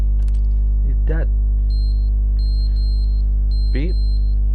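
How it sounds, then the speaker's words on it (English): In a video game, a fire alarm gives high repeated electronic beeps in short bursts over a loud steady hum, while a person speaks briefly in between. "Why is the fire alarm going off in game?"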